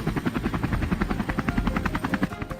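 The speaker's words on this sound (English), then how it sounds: "James' helicopter roars into the air" A helicopter thumping loudly and steadily, its rotor beating in a fast, even rhythm with a high engine whine above it, close and continuous.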